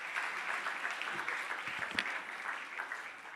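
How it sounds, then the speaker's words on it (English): Faint, distant audience applause at an evening sports awards night, a soft continuous patter of many hands with no talk over it. "One more round of applause, please."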